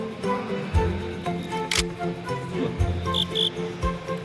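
Crickets chirp steadily in the background, with a few short high chirps and some low thumps and knocks in the foreground.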